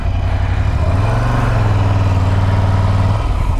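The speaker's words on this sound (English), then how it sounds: "The way the bike starts is a little sketch." A 2017 Ducati Monster 797 motorcycle engine starts and settles into a loud, close, steady rumbling idle that holds for several seconds, with no voices over it.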